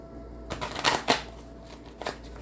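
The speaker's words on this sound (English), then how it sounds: "Let me go ahead and shuffle the cards a little bit here" A deck of oracle cards is shuffled up close, a few quick papery riffles and flicks in short bursts over quiet room tone.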